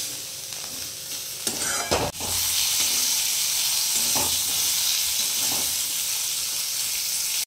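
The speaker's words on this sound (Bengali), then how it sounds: "আর কড়াইতে হচ্ছে ঢ্যাঁড়সটা ভাজতে দিয়েছি" Okra frying in a wok gives off a steady, loud sizzle with occasional stirring clatters and a brief scrape near the middle, with no talking.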